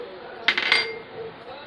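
A spoon clinks and scrapes against a bowl of coconut chutney a couple of times in quick succession, brief and close, then only faint room noise.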